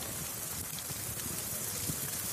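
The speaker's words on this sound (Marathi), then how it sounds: "आज सकाळी पुन्हा एकदा पावसानं हजेरी लावली" Steady unseasonal rain falls in the Vidarbha region around Nagpur, Amravati and Bhandara, a dense, even hiss of drops on surfaces that holds constant throughout with no voices.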